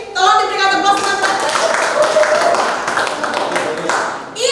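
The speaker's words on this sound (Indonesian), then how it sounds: "Terima kasih Bu Yeni, tolong diberikan tepuk tangan." Applause at a school teachers' event in Indonesia, a crowd clapping steadily and fairly loud for several seconds before fading out.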